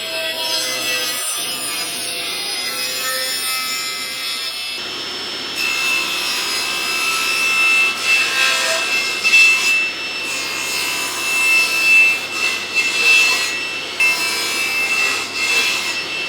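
Wood sawn by hand in a steady run of rasping strokes, close and loud, with a short pause partway through and no talking.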